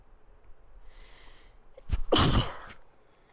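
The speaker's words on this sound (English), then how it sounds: "Hold on, I gotta sneeze." A single loud sneeze bursts out after a short inhaled build-up, close to the listener in an otherwise quiet room.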